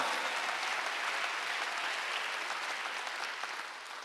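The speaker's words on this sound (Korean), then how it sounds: "빨리 박수." A church congregation at a Wednesday worship service breaks into steady, dense applause that holds for about four seconds before tapering slightly, with no voices over it.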